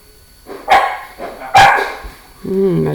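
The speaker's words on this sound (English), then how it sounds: "my dog is barking." A dog barks twice in sharp, loud bursts close by, followed by a higher, whining yip that trails off at the end.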